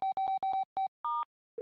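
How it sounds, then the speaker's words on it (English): Phone tones from the video game Unmemory: a quick series of short electronic beeps in an uneven rhythm, then a longer two-tone chirp and the start of a steady tone, clean and isolated. "let's go to our phone and call these 2 odd numbers"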